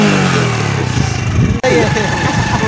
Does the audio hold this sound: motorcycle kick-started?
yes